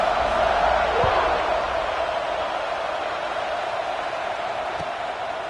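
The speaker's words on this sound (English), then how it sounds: "this crowd is buzzing after that last score" A stadium crowd hums in a steady, even roar from the NCAA 26 football game, Missouri at LSU, with a couple of faint thumps and no single cheer standing out.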